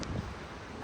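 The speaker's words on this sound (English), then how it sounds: "It's windy." Wind gusting across an open outdoor spot at a dog's birthday gathering, a steady broadband rush with a brief stronger buffet at the start, close on the microphone and with no voices.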